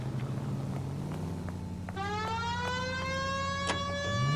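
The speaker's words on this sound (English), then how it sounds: "We have a siren." A wailing police siren from the video game L.A. Noire starts partway through and rises in sustained, harmonically rich sweeps over steady car engine hum, loud and close in the game mix.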